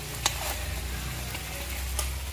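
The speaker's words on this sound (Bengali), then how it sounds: "মাংসটাকে ভালো করে নাড়াচাড়া করে একটু ভেজে নেব লাল লাল করে" Chicken pieces stirred and fried in a pan with peas nearby: continuous close sizzling with a few sharp scrape and clack strokes of the spoon against the pan.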